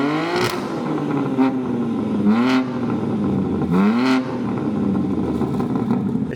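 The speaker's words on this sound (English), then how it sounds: "I want to give you a few revs just so you can hear how the car sounds right now." A BMW G82 M4 with the S58 engine and stock exhaust blips its throttle three or four times from a rumbling idle, each rev rising sharply and falling back, close and fairly loud.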